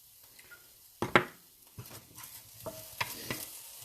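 Croutons fry in a pan with anchovy, making soft crackling and sizzling under scraping stirs, with a sharp clatter near the start and a few light taps later.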